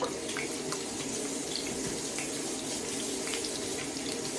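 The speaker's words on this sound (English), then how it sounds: "I'm just gonna wash my hands while we watch that cook" A kitchen tap runs steadily into a sink while hands are washed under the stream, with constant close splashing and no talk, during the cooking of a mushroom burger with cream cheese and cheddar.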